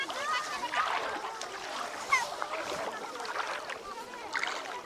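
Legs wade through knee-deep water, making repeated sloshing splashes close to the microphone, steady and uneven in rhythm, with faint background noise and no clear speech.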